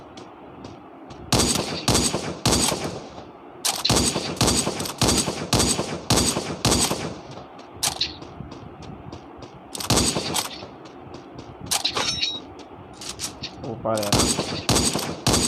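Rapid automatic gunfire in a mobile battle royale shooting game, loud bursts of machine-gun fire repeating throughout with short gaps, while players talk over it.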